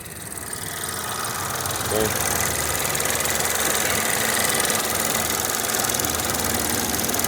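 2016 Ford Fusion engine idling while running on fuel injection cleaner, a steady close rumble with a faint rhythmic knock underneath, continuous and unchanging throughout.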